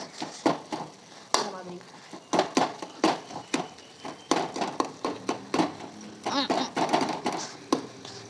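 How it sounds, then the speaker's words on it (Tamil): Tomato rice being stirred and pressed in a pot, with a steady run of scraping, clinking spoon strikes against the metal, fairly close, while a voice talks over it. "நல்லா குத்தி விட்டு கிண்டி விட்டுக்கலாம்"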